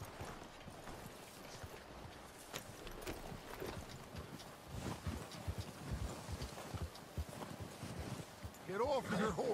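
Horses walking in the video game Red Dead Redemption 2, a steady, quiet clip-clop of hooves mixed with game ambience and speech-like voices, growing a little louder toward the end.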